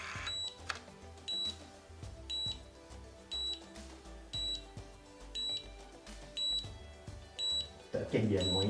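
A cordless automatic hair curler with a ceramic barrel and LCD display gives short high electronic beeps in a steady repeating rhythm throughout the curl, with people talking underneath.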